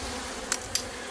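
A steady hum of honeybees surrounds an opened Layens hive in a woodland apiary, with two brief sharp clicks cutting through the close buzzing.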